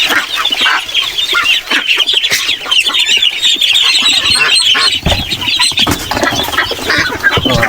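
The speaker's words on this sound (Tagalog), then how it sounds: "Habang nagpakain tayo sa ating mga alagang heritage chicken" Heritage chickens clucking and squawking in a lively, overlapping chorus while being fed, close and loud, with scattered rustling and pecking noises.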